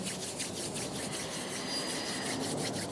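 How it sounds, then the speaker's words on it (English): Steady, dry rubbing and friction, like palms swishing back and forth against each other, continuous and close for a few seconds with no talking. "rub the palms of the hands, feeling the sensations of the hands rubbing, the sound, the friction"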